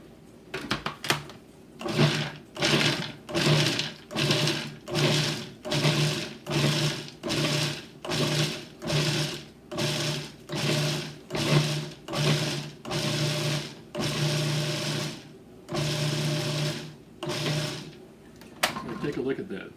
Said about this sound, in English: let's put some walnuts in there. I'll chop those in there.